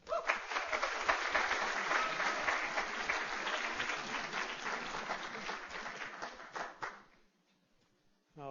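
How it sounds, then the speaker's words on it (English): Warm audience applause welcomes a lecturer onto the stage at a science talk, a full, steady clatter of many hands lasting several seconds before fading out abruptly near the end. "I want to thank the audience not only for that rousing applause"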